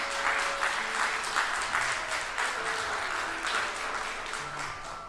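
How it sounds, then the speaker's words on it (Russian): Audience applause fills a concert hall at a literary-musical evening with a regional philharmonic. Dense, steady clapping holds for the whole stretch at an even level, with only faint voices mixed in. "Ваши аплодисменты!"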